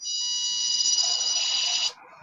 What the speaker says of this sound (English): Do you hear like a little beeping, like a SOS?